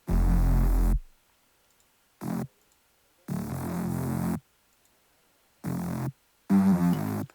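Dry synthesized bass notes play in separate bursts of varying length, buzzy and harmonically rich, separated by silent gaps.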